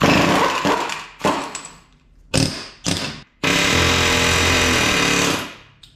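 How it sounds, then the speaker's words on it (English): A pneumatic air hammer rattles loudly in a few short bursts while working on a 1965 Plymouth Fury wagon, then runs in one long sustained hammering burst before cutting off. "Air hammer, best tool ever."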